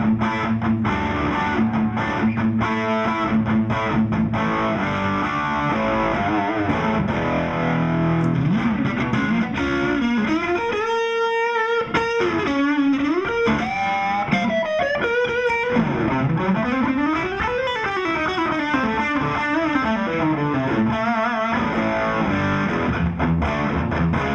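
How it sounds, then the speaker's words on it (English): Electric guitar played through a Barber SS Direct Drive pedal set for heavy distortion, a continuous saturated tone with bends and sliding melodic runs, sustained and loud throughout with no voices. "The Barber SS Direct Drive here, that's kind of my heavier distortion."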